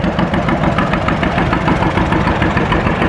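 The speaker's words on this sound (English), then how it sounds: "Another Ford tractor." A vintage Ford N-series tractor runs at a fairly loud, steady idle close by at a cotton gin festival, its engine chugging evenly with no voices.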